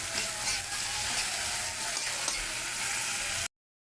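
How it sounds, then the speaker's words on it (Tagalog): Dried anchovies and tomatoes fry in a pan while oyster sauce is stirred in, giving a steady, dense sizzle throughout with faint scraping, close and fairly loud, before it cuts off abruptly. "Haluin natin ang ating oyster sauce."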